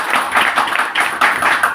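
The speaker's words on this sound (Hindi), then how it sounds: "एक बार जोरदार ताली हमारे" An audience claps loudly at a live program in a rapid, dense burst of hand claps that lasts a couple of seconds.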